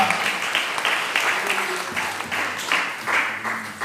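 A church congregation claps together to glorify God, a burst of many hands in uneven rhythm that rises and falls over a few seconds, with voices mixed in beneath it.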